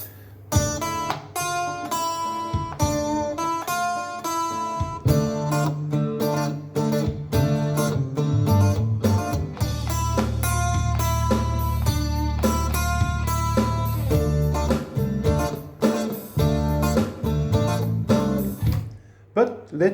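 Played on bass and drums, a steady grooving bass line over a tight drum beat that keeps going with no break, loud and close.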